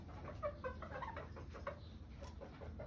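Chickens cluck in short, soft, scattered calls at a moderate distance, with a few higher chirps mixed in over a low background rumble.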